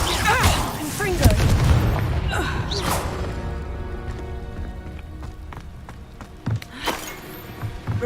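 A Confringo blasting spell in Hogwarts Legacy sets off explosive bursts, a booming blast early followed by sharp crackling impacts and scattered debris, with a couple of later hits near the end over a busy game soundscape.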